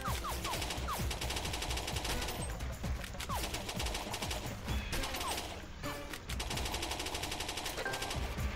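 Uzi gunfire in the Major Mayhem shooter, loud sustained automatic bursts with rapid rattling shots and brief pauses, repeating steadily throughout without speech.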